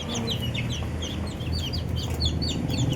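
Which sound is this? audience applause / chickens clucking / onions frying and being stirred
chickens clucking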